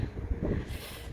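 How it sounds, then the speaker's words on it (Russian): Strong, icy winter wind blows through a snowy forest, a loud, rough buffeting roar pressing on the microphone in uneven gusts, swelling toward the end. "Ветер очень сильный, прям просто ледяной"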